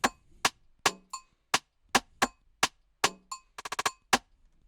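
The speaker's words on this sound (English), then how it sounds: "And this snare loop that has about 5 things in there." Snare loop layered from about five percussive sounds for an Afro remix: crisp, bright hits at a steady pulse with a quick rattling roll near the end, dry and close, with no voices.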